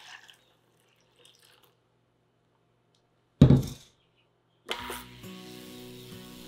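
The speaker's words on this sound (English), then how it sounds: "all I'm gonna do is just pour it into the cleaner." Liquid for a homemade liposomal vitamin C mix is poured into an ultrasonic cleaner. After near silence comes a short splashing burst, then a sustained pouring and trickling sound that continues to the end.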